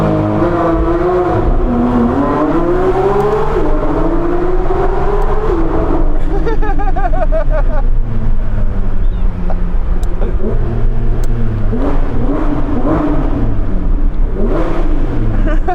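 A Porsche 911 GT3 engine rises and falls in pitch as the driver revs while coasting, a loud, close, continuous mechanical tone with shifting harmonics throughout.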